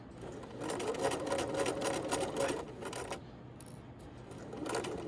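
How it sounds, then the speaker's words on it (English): A sewing machine runs in a steady whirring burst while back stitching a seam on a tote bag, then pauses briefly and starts again at the end; no one talks. "you're going to back stitch about 3 stitches up"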